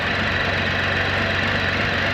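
A Can-Am Spyder motorcycle engine runs at a steady idle, a dense, even mechanical drone heard close up with no speech.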